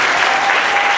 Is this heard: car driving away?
no